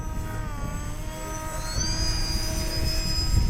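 A small aircraft, likely a radio-controlled model, takes off on the downwind leg on a windy day, giving a buzzing engine whine with rising harmonic tones over strong wind rumble, growing louder partway through.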